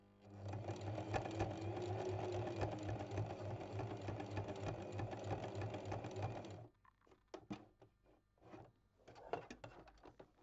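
A sewing machine runs a straight stitch for free-motion cut-work embroidery, whirring steadily and loudly for several seconds, then breaking into short, intermittent bursts of stitching with brief pauses between them.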